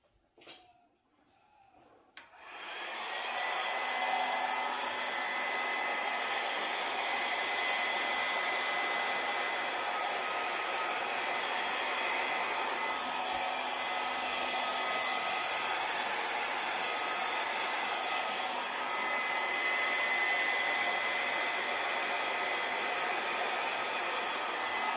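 A hair dryer blows across an acrylic Dutch pour painting, a loud, steady, close airy roar that starts after a couple of seconds of handling noise and keeps going without a break.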